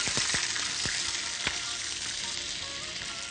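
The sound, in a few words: chicken stock poured into hot pan for sweet corn soup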